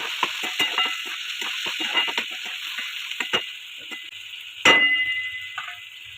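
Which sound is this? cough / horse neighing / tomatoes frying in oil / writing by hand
tomatoes frying in oil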